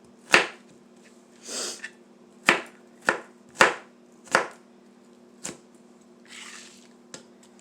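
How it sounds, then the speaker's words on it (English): A knife chopping onion on a cutting board in a home kitchen: several sharp, close cuts with irregular spacing and soft squishy sounds between them, alone in a quiet room with a low hum. "we're going to cut off a little bit more of this onion"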